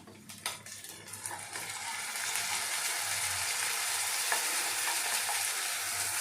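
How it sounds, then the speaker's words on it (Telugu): Mint paste added to ginger garlic paste sizzling and frying in a pan, a steady close crackle that swells after a few stirring clinks at the start. "పుదీనా వేసిన తర్వాత మనము 5 నిమిషాలు బాగా వేయించాలండి"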